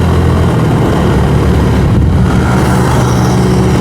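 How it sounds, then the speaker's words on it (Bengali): A group of five or six motorbikes rides slowly along a road near Teknaf, giving a loud, continuous engine drone that stays steady and close throughout. "এই যে দেখেন বাইক আসতেছে গ্রুপ"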